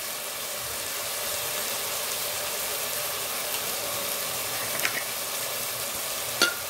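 Mutton frying in a pan with jeera and methi gives a steady, soft hiss of sizzling oil throughout, with a couple of faint clicks of stirring near the end.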